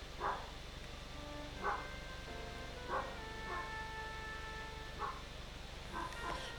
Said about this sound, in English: My dogs are low-key ruining the mood.